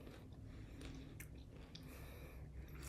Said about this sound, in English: I'm sorry if you hear me crunching, but I'm gonna eat because I've not eaten dinner